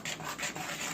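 Pancake batter being stirred briskly in a bowl, a steady rhythmic scraping and swishing that pulses about four times in a second, close and fairly quiet.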